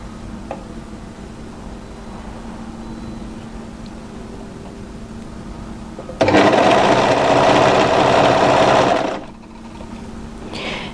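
An overlocker stitches along a fabric edge through the notches of a draped dress pattern, a loud steady whirring burst of about three seconds that starts abruptly and stops, with quieter room hum before and after.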